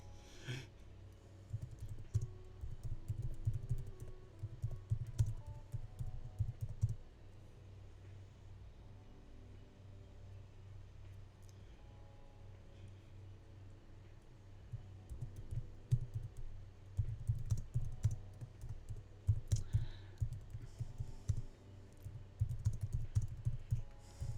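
Typing on a computer keyboard: quiet, rapid clicky taps in bursts, with a lull in the middle, over a constant low rumble.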